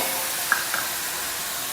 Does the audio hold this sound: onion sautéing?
yes